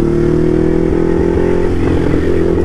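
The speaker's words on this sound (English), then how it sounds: "this bike sounds so freaking good, man" A Ducati Hypermotard SP motorcycle ridden in sport mode gives a loud, close, continuous engine drone with a throbbing low rumble and slight rising revs, heard alone without talk.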